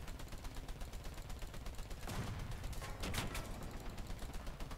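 Machine guns on a tank rattle continuously in War Thunder amid engine rumble and battle noise, a dense, steady burst of rapid fire running throughout with a louder swell near the middle.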